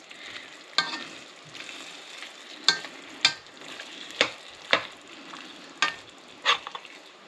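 Shrimp, tofu and leeks stirred in a hot pan, a soft background sizzle broken by about eight sharp utensil scrapes at uneven intervals, close up and without speech.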